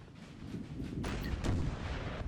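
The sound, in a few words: artillery cannon fire in Napoleon: Total War video game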